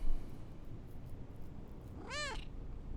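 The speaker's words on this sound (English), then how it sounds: "Typical cat, huh?" A cat gives a single clear meow near the end, rising then falling, close and distinct over a steady low background hum with no talking.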